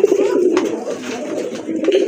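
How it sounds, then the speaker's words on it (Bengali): Pigeons coo steadily in a low, throaty murmur that runs the whole time, a pair of Giasulli pigeons for sale, with soft overlapping calls close by and no talk. "আরেক জোড়া কবুতর গিয়াসুল্লি কবুতর, খুবই সুন্দর কালারটা দেখেন আপনারা"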